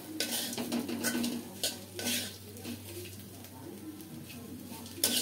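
A vegetable bhaji in a pan on low heat, stirred with a utensil: repeated clinks and scrapes against the pan in irregular bursts over a faint sizzle, close by, with a soft voice now and then in the background.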